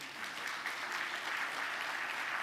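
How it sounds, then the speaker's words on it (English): A round of applause for tribal elders at a Native American college opening ceremony, a steady, fairly faint wash of many hands clapping from a distance. "We can give them a round of applause for being here."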